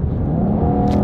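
A rental Chevrolet Camaro's engine rumbles and revs as the pedal is pressed, a loud, close, low throaty drone with a faint rising whine throughout.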